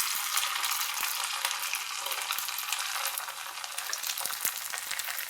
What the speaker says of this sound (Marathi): आता एक एक करून भजे सोडून घेते या तेलामध्ये।